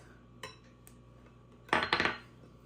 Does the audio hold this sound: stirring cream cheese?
yes